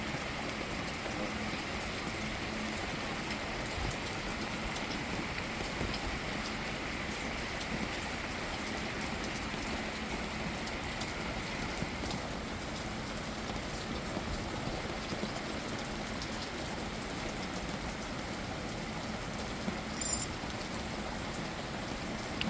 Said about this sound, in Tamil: நல்ல மழைங்க பாருங்க